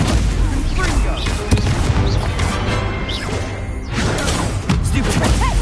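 Confringo fire spell blasts in the game Hogwarts Legacy: loud, dense booming crashes and impacts fill the clip continuously, mixed with busy combat effects and game voices shouting.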